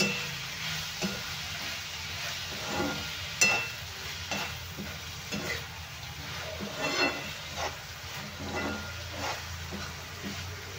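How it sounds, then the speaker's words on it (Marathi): Pumpkin pieces cook in oil in a pan for a Marathi-style curry, giving a steady, moderately quiet sizzle broken by repeated scraping and stirring clicks, with no voices. "कद्दू आपल्याला थोडा तेलामध्ये छान शिजवून घ्यायचा आहे"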